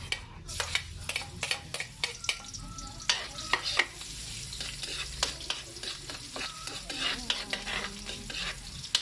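Squash shoots sautéing in a pan: a continuous close sizzle broken by many sharp, quick spatula scrapes and clacks in an irregular stirring rhythm, with no voices.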